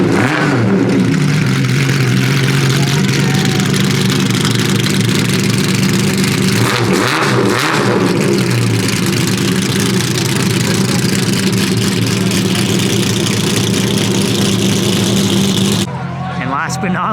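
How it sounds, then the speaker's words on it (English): A green Porsche Carrera GT hypercar at a car week event revs its engine hard and pulls away, loud and close, with a rising and falling engine note over a crowd and talking. "There goes Damon in the green Carrera GT"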